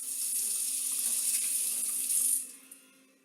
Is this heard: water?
yes